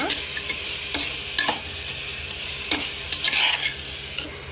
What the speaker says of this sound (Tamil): இதை நம்ம நல்லா வதக்கலாம்.